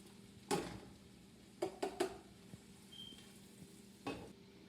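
Fresh pepper and onions frying for egusi soup, a quiet steady sizzle broken by a few clinking utensil knocks against the pot.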